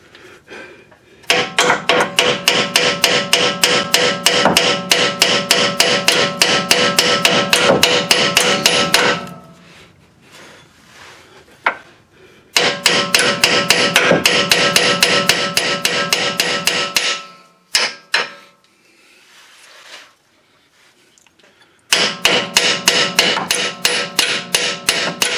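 A hammer hits a rusted, seized toe link on a 2011 Ford Edge in loud, rapid metallic blows, three long bursts of strikes separated by quiet pauses and a few isolated knocks.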